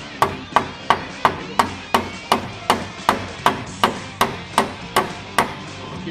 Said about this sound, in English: Give it a couple whacks and that hole will actually close back up.